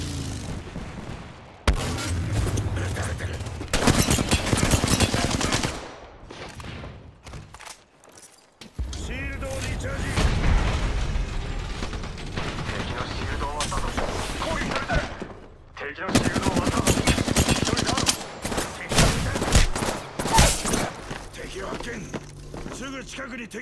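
Gunfire in the battle royale game Apex Legends: repeated bursts of shots and loud impacts through most of the stretch, broken by brief lulls, with game voice lines and effects layered in.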